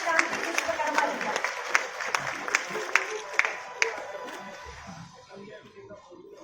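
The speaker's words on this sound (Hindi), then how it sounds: "जोरदार तालियों के साथ स्वागत करेंगे शांति विश्वकर्मा जी का।" A seated audience at the Lokmata Ahilyabai Holkar Mahila Samman 2025 women's award ceremony claps in welcome, a sustained patter of applause with a few sharper claps standing out, fading toward the end.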